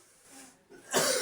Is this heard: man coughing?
yes